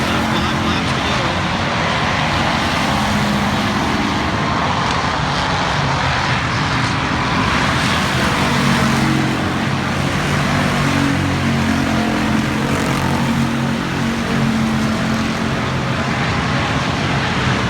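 Pure stock race cars roar around Salina Highbanks Speedway's dirt oval during a last chance qualifier, a loud, continuous blur of engines revving and droning as the pack passes, with an announcer calling the race over the noise.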